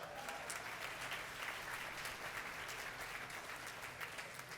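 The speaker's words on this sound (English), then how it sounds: "Big applause." Applause at a hospital groundbreaking ceremony in Mississauga: a sustained, even wash of many hands clapping at a distance. No voices stand out over it.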